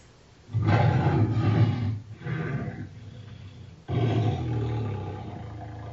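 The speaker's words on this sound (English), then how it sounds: "That was a lion, a tiger, and a bear." Recorded lion, tiger and bear roars play back-to-back from a smart speaker: three loud, rough roars in sequence, each swelling and fading, with no talking.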